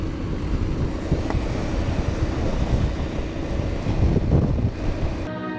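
Strong wind in Wellington, New Zealand, roars loud and close as a constant low rumble buffeting the microphone, with gusts swelling and easing throughout.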